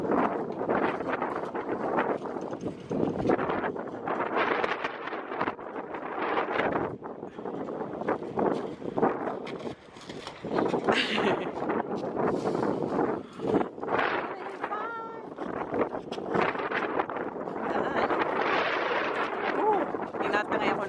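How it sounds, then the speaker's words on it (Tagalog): Strong wind buffets the microphone in gusty roaring bursts at an Australian lobster sale, with people talking underneath. "Tinatangay ako ng hangin."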